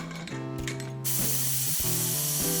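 A pressure cooker holding paneer butter masala mixture hums with steady tonal whistling, then a loud, continuous steam hiss bursts out and keeps going, broken by short wavering pulses.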